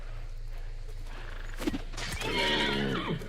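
A horse whinnies in the video game Hunt Showdown, a loud drawn-out neigh rising over a low steady hum, preceded by a couple of brief knocks.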